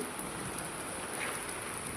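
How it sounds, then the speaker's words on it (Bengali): Heavy rain in Singapore pours down as a steady, dense hiss of drops on surfaces, constant and even throughout with no talk. "আজকে আমাদের এখানে অনেক বৃষ্টি।"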